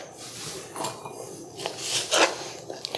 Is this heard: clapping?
no